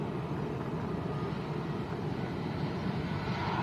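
A Binter ATR turboprop taxiing at Lanzarote Arrecife airport makes a steady, fairly loud broadband engine drone that holds evenly throughout, with no talk over it.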